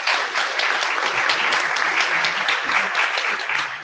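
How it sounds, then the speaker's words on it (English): Lunchtime audience at an IETF speaker series applauds its speakers, dense steady clapping from a roomful of people filling the whole stretch at even loudness. "I'd like to round of applause for our speakers that took their time to come talk to us today."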